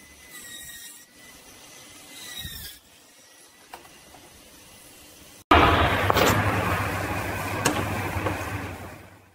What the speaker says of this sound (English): Extra plastic is trimmed to achieve a smooth finish.